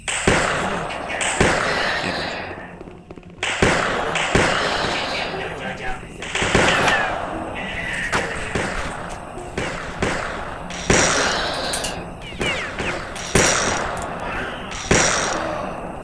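Repeated sharp gunshots ring out in an Ottoman-era game, loud bursts spaced every second or two with someone talking over much of the action.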